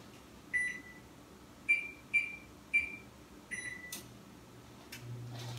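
Oven control panel beeping while the temperature is set to 350, a series of short electronic tones at an uneven pace, followed by faint clicks and a low hum, no talk.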